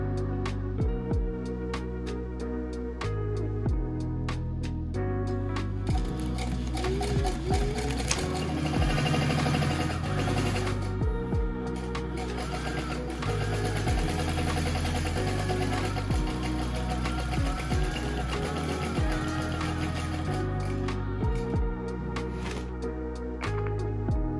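A sewing machine stitches an acrylic canvas boat bag with a steady, rapid mechanical whir, pausing briefly between runs, then speeding up again, close and constant throughout.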